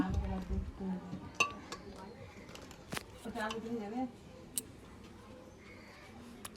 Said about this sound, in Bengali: ডিমগুলো এবার সাজিয়ে দিচ্ছি প্রেসারে